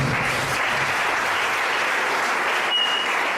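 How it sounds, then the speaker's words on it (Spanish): A church congregation claps steadily in sustained, dense applause filling the room, close and loud throughout with no voices over it. "recibimos con un fuerte aplauso al Señor"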